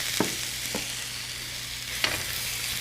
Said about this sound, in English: So first we're going to stir fry the red bell pepper.